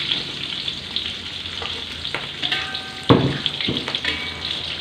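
Chopped chili and spring onion hit hot oil in a wok for mie goreng, kicking up a bright, close frying hiss that surges as they land, with spatula clanks and scraping against the pan.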